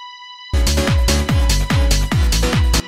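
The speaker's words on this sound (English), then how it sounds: "You got your classic sort of like house string sound" Synthesized house-style string chord with slight detune and reverb, played as a rhythmic series of stabs with decaying tails for a hard house track, loud and alone after a brief steady test tone.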